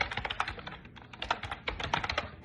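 Fingers type a domain name on a computer keyboard, with quick, close, irregular key clicks in a steady run and no talking.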